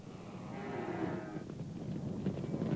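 Cattle moo on a dry trek toward a well, a low drawn-out lowing rising through faint outdoor background noise, moderately distant and without speech.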